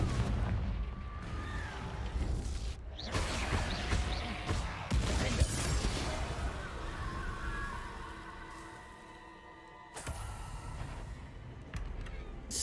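Confringo blasting spell cast in the Hogwarts Legacy video game, a series of booming bursts and crackling impacts layered over game music and effects, with dense noise throughout and a sharper blast near the end.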